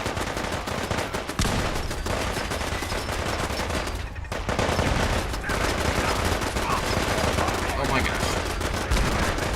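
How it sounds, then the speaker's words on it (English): Sustained automatic gunfire from the Fallout 4 video game, loud and continuous rapid bursts with a short break near the middle, while a player briefly exclaims. "And there's more fighting. And there's more shooting."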